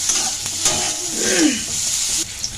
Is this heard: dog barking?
no